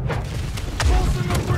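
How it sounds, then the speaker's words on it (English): Ship cannons fire in a video game at sea, a few deep booming blasts with heavy low rumble, while people talk over the gunfire. "Now we want to get out of cannon fire, because they're going to fire back now."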